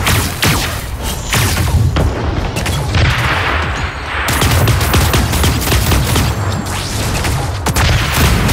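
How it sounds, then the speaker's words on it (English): Dense, continuous gunfire in the video game Super Mecha Champions, with bursts of rapid shots and heavy booming thuds, loud and chaotic throughout, no talking. "Hear gunfire. Keep your eyes sharp."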